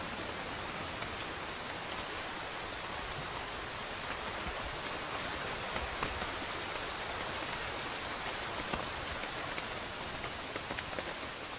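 Rain patters steadily on the leaves of a rainforest canopy, a dense, even hiss of countless drops with faint individual taps, continuous and soft throughout, with no voices.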